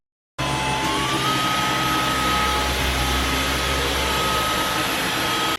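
A Dyson cordless vacuum cleaner with two batteries runs steadily and close by, a loud continuous broadband whoosh with a low hum and a faint high whine that starts abruptly and holds throughout, with no talking.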